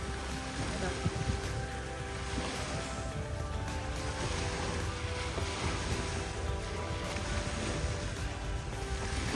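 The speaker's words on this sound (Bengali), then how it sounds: "ওয়েব আছে দেখতে পাচ্ছি, আওয়াজ বিশাল লাগছে" Ocean waves at a beach, a broad constant roar of surf mixed with wind buffeting the microphone, with voices faintly present in the background.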